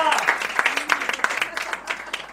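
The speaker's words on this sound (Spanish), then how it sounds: "Fuerte aplauso para mi madre" Applause from a small live music audience, distinct individual claps ringing out close by in an uneven rhythm, with a voice briefly audible among them.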